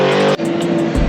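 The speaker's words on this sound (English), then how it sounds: "He's shifting down, ladies and gentlemen." Supercharged car engine on a race track, loud and close, with a sharp break in the howl as it downshifts and then resumes revving at a lower pitch.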